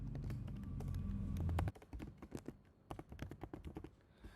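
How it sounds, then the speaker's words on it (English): Quick typing on a computer keyboard, close and quiet, an irregular run of light key clicks with a soft hum at the start. "Just type your text"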